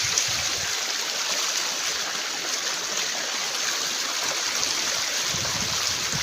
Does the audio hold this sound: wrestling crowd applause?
no